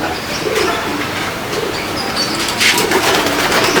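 Soft coos of pigeons in a loft murmur over a steady bed of fluttering and rustling, with a brief brighter burst partway through.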